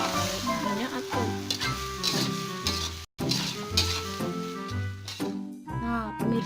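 Mie golosor noodles sizzle while being fried and stirred in a pan, a continuous crackle with scraping, under music and talking voices.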